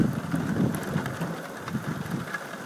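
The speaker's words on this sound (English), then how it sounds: "There is seriously a thunderstorm right now." Heavy rain falls steadily during a thunderstorm, a dense close hiss and patter throughout with no distinct thunderclap standing out.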